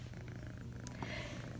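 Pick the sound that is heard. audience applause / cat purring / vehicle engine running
cat purring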